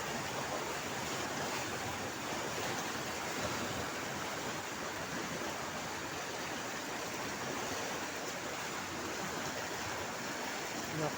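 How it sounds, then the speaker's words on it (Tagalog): Floodwater rushing in a steady, dense roar, unbroken and fairly distant, with no voices over it. "Nakakapangilabot yung laki ng baha"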